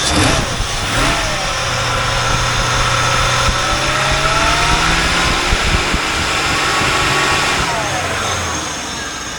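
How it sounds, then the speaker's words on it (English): A 1995 Corvette C4 with an LT1 V8, running without an air cleaner and not being driven, revs up repeatedly from idle; the engine note rises and falls loudly and close throughout. "Alright, give you some revving."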